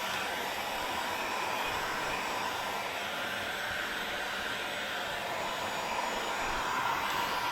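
A heat gun blows a steady, airy hiss while shrinking material, a constant even whoosh at moderate distance with no break.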